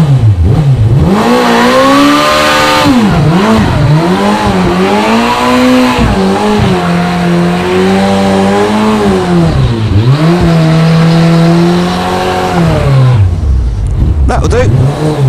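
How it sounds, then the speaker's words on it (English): A motorbike doing a burnout, its engine revving hard and loud in repeated rising and falling surges, with tyre squeal mixed in, close and continuous for about fifteen seconds. "That's how you do a burnout."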